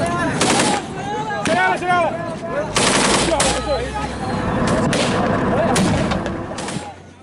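Gunfire in a clash with enemy snipers, loud bursts of rapid automatic fire and single cracks that come and go over a few seconds, with shouting voices mixed into the din.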